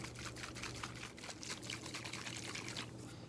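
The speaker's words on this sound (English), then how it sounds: "I put the vial on, and now I'm gonna shake it." A small vial holding sand, water and fine sediment is shaken in a second-grade earth science demonstration, giving a steady sloshing, rattling swish that runs throughout at a moderate, close level with a faint low hum underneath.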